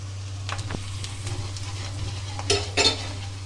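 Onions and spices frying in a pan for beef malai boti, a soft sizzle under a steady low hum, with a few scraping stirs and utensil clinks toward the end.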